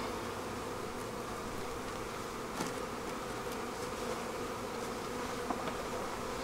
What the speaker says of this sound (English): Now we're going to get those bees out of there.